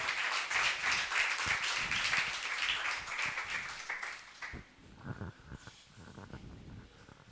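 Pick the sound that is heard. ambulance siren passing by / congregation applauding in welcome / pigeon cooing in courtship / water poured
congregation applauding in welcome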